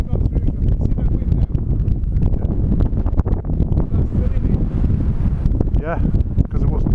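Wind blows hard across an open hillside near a golf course, buffeting the microphone in a constant roaring, gusty rumble while people talk.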